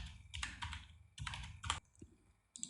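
Computer keyboard keys clack in two quick clusters of typing, close and crisp, followed by a single isolated keypress near the end.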